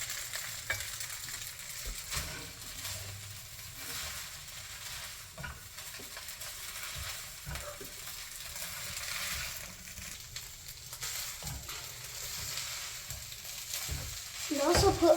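Egg hakka noodles frying in oil in a pan, a soft steady sizzle broken by scraping and stabbing strokes of a utensil, with a louder clatter at the end.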